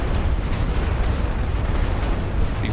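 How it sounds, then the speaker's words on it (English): Light artillery fire in a World War One strategy game on the Western Front, a continuous loud rumble of distant booms blending into a dense, steady roar. "I'm going to hit these back lines with some light artillery"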